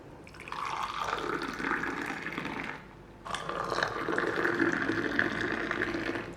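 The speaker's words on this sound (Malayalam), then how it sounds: "നമുക്ക് ഗ്ലാസ്സിലോട്ടങ്ങ് ഒഴിച്ചു കൊടുക്കാം." Kerala-style homemade tea is poured into a glass from a height to raise froth. Two steady liquid pours of about two and three seconds are separated by a short pause, close and clear, with no voices.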